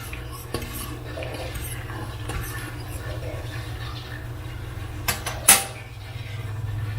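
Metal utensil stirring minced garlic into pot roast inside an Instant Pot, soft scraping and swishing over a low hum, ending in a sharp clank of the spoon against the pot's rim.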